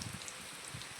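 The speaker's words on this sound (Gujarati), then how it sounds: "અમારે વરસાદ હજી એમને શરૂ છે આમ જુઓ તમે નેવા પડે" Steady rain falls and drips from the eaves of a house in a continuous soft, diffuse patter with scattered faint drop ticks.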